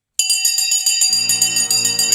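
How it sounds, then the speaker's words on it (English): A bell rings out alone in bright, sustained metallic tones with a steady shimmer, starting suddenly and continuing without pause, joined partway by a lower hum. "The bell has gone."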